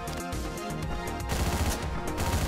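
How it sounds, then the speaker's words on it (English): Rapid gunfire from the Hotline Miami video game on PS5 crackles in dense, loud bursts, with shots tumbling over one another in a fast, uneven rhythm that grows heavier toward the end. "Okay, I should stop shooting so much."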